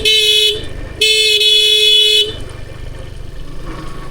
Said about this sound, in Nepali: बाटो खाली भए पनि यसो हर्न चाहिँ हान्नुपर्छ